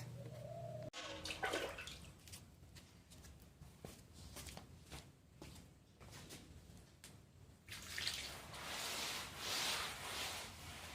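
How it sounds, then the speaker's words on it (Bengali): Dishes being washed by hand under running water: soft splashing and scattered clinks and rubs, with the water flow growing louder and hissier toward the end, no voices. "এখন বাসন মাজবো"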